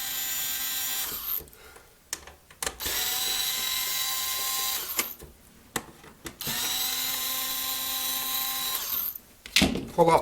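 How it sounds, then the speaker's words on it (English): A powered screwdriver backs screws out of a ColecoVision Expansion Module casing in three long whirring bursts separated by short pauses, close and fairly loud, with a brief clatter near the end. "Let's remove these screws here."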